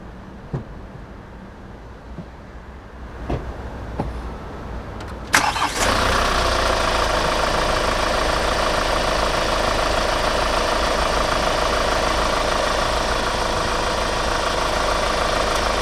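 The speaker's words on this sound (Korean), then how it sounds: "자 엔진 소리 한번 들려 드릴게요" A few clicks and a brief crank, then a Hyundai Grand Starex van engine catches and settles into a loud, steady idle rumble close by.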